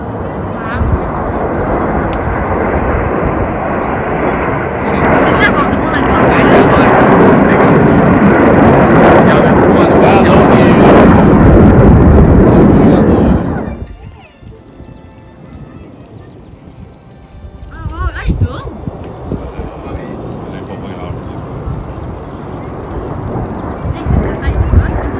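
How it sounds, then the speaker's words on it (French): Several airplanes pass overhead during a St-Jean air show, a loud continuous roar for about fourteen seconds that cuts off sharply, leaving a quieter rumble that swells again toward the end. "il y avait plusieurs avions qui passaient"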